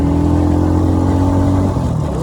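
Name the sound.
motorbike engine revving while riding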